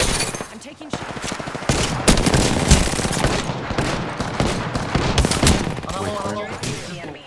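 Rapid gunfire in the shooter game Apex Legends, dense bursts of automatic shots and impacts filling the whole stretch, loud and close, with player voices talking over it.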